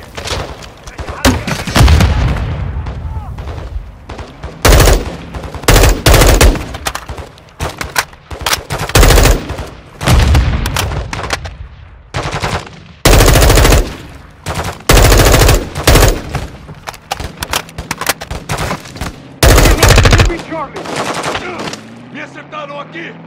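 Loud gunfire in a Call of Duty: Modern Warfare 2 Spec Ops co-op mission. Long bursts of automatic fire and heavy booms fill the scene, broken by short pauses and reload gaps.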